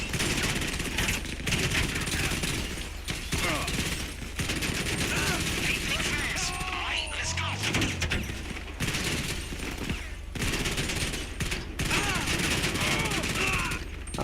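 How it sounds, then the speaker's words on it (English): Gunfire in GTA 5 Online, dense bursts of automatic fire rattling continuously over game background, with a player speaking briefly. "I'll shoot that dude right in his foot."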